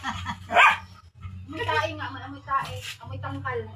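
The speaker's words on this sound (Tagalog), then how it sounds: "Subukan mag-ingay yung aso" A dog barks sharply once, then yips and whines while people talk over it.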